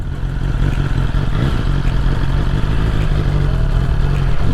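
A 2021 BMW S1000R motorcycle rolling at low speed, its steady mid-range engine drone and low rumble continuous and close, with faint mechanical clatter throughout.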